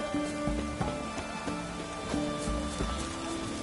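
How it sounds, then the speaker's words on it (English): Rain in the video game The Witcher 3: Wild Hunt, a steady soft patter under a tonal game music backdrop with rhythmic low notes, no talk. "Looks like rain."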